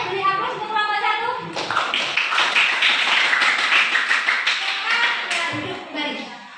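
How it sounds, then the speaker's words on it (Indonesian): A classroom audience of pupils claps for the first group after its presentation, a dense burst of hand claps lasting several seconds and rising abruptly after a voice speaks. Voices chatter before and around the applause. "Oke, beri aplaus untuk kelompok 1."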